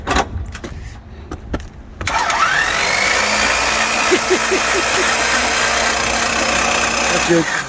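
A truck's six-cylinder engine with its spark plugs removed is cranked over by the starter, a loud, steady whirring churn that begins abruptly after a few clicks and knocks and runs evenly to the end.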